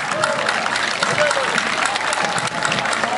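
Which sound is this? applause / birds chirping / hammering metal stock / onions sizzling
applause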